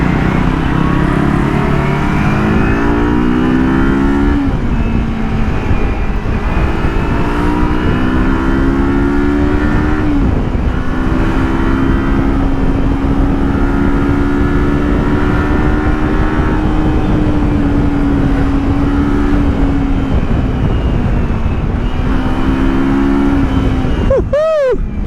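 Kawasaki X 300 motorcycle under way, its engine climbing through repeated gear changes and accelerating runs, loud and close with steady road and wind rush throughout, ending in a brief rising whine.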